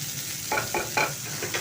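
Neem leaves fry in hot oil, a constant sizzle under four or five distinct scraping strokes of a spatula stirring the pan, close and with no voice present.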